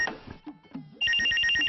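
A telephone rings in an indoor drama scene, with a loud, repeating bright electronic trill that starts abruptly after a second of soft low sounds.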